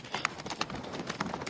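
Horse hooves clip-clop in a quick, uneven run of sharp strikes, fairly close and moderately loud, as a rider fails to pull the horse to a stop.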